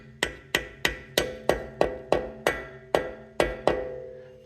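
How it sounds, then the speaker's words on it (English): A soft hammer taps a part into a 1600 cc VW engine block, about a dozen evenly spaced, ringing knocks in quick succession, close and clear, with no talk. "I like to get a soft hammer and just tap it in there."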